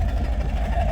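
A 1972 Chevrolet Corvette idles with its dual exhaust, a steady low rumble with a slight pulsing throb, close and continuous through the short stretch.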